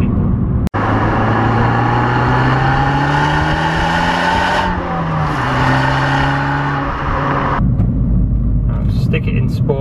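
An Abarth 595 Turismo's small engine revs up through the gears, its pitch climbing in rising sweeps with brief dips at shifts, then dropping off near the end as the note settles, loud and close inside the car.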